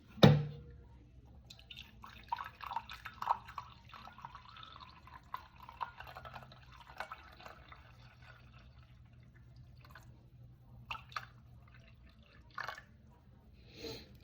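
Water poured from a tap into a container sitting on a kitchen scale while weighing out 266 grams for sourdough discard crackers; soft, intermittent trickling and drips, fairly faint and close, with a few small knocks.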